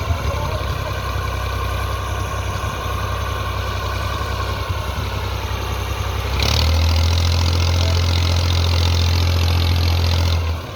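A Massey Ferguson 240 tractor engine labours to pull a tree, a steady loud diesel drone that deepens and intensifies partway through, holding under heavy load before easing near the end.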